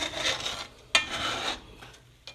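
Metal spatula scraping thick residue off a cast iron pan, two rasping strokes with a sharp clack between them and a faint tap at the end, close up.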